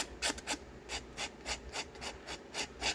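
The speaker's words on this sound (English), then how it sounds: "just use the back of your scissors. Just roughs up the edges and gives it a nice texture" Back of a pair of scissors scraped along paper edges to rough them up for a junk journal: a quick series of soft, dry rasping strokes in an even rhythm, close and quiet, with no voices.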